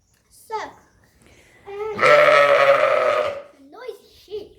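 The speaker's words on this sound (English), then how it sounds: "noisy sheep." Sheep bleating on a farm during lambing season: several close, wavering bleats, one long and loud, among shorter calls, with a voice mixed in.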